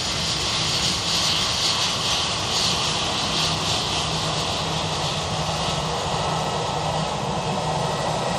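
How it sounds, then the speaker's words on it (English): An Embraer jet airliner starting its takeoff roll at Bristol Airport: a steady, broad, loud engine roar with a continuous rushing whine that holds evenly throughout, heard from outdoors with no speech. "Embraer making its way for its takeoff run now"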